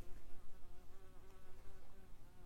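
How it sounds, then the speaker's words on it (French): A bee or wasp buzzes inside a living room, a thin wavering drone that rises and falls as the insect moves closer and farther, fairly faint but continuous with no voices. "Si il y a un bruit d'abeilles guêpes, il y en a une qui se trimballe dans le salon"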